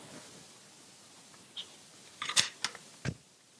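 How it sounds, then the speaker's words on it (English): Sharp scissors snip through fabric squares for quilting: a few quiet, crisp cuts clustered near the end, set against a soft, hushed background. "then you can cut them out using your sharp scissors"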